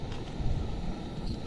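Wind gusts across a mountain campsite, a low rumbling buffet against the microphone that swells and eases throughout, steady and fairly loud with no talk.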